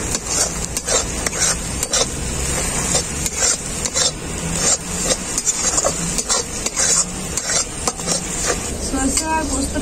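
Mustard and poppy seed paste sautéed in a pan for a prawn and taro curry, with a loud steady sizzle broken by rapid, repeated spatula scrapes against the pan throughout.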